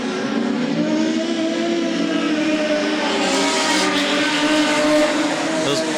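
Production sedan race cars roar down the back straightaway three wide, a loud, sustained engine drone under a commentator's voice throughout.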